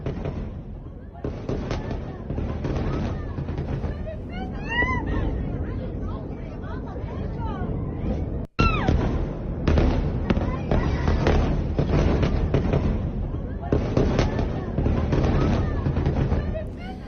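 Repeated heavy blasts and booms from Israeli air strikes in Lebanon ring out, mixed with crackling bursts and background commotion, loud and continuous over the whole stretch.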